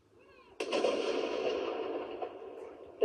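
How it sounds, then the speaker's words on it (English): A single ceremonial gun fires at a Remembrance Sunday service, one sharp loud blast that rolls into a long echoing rumble fading over a few seconds in open air. "But it is a gun, and then a bugle that breaks the quiet."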